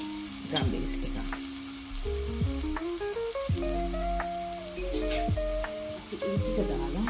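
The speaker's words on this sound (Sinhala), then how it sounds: "මේක පොඩ්ඩක් හොඳට බැදෙන්න දෙන්න ඕනේ" Chilli flakes and black pepper frying in ragù bolognese, a close steady sizzle with repeated scraping and clinking of a utensil stirring in the pan, and a voice speaking over it at times.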